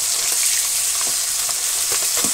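Katla fish fries in hot oil in a village kitchen, a steady close hiss of sizzling with small irregular pops and crackles, no voices.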